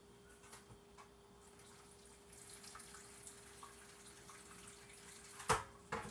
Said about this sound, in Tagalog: Babawasan ko po ito ng tubig muna kasi madami.